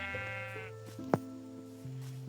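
Sheep bleating in a Minecraft survival game, one drawn-out wavering bleat standing alone over a low steady musical drone, with a brief sharp click partway through.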